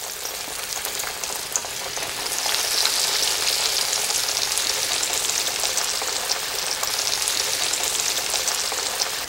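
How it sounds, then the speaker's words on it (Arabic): Breaded cream chop pieces of meat fry in hot oil, a loud, steady crackling sizzle that swells slightly after the first couple of seconds and continues without talk. "ورح نستمر بقلي القطع الأخرى كلها بنفس الطريقة."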